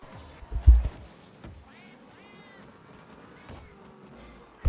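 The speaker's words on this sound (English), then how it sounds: "you hear the sound of a dying cat" Cat-like yowling amid game sounds during a 2v2 match, a few wavering meow-like rising and falling tones over busy background noise, with a couple of louder low thumps.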